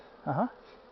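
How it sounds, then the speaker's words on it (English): Honey bees buzz at an open hive during an inspection, a brief louder swell of droning over a steady faint hum. "Oh, I can feel the buzzing."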